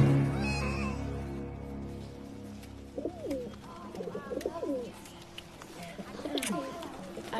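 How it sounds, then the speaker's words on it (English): Live doves coo in a few soft, repeated warbling calls at close range, following a person speaking at the start. "Where do you find live doves in New York City?"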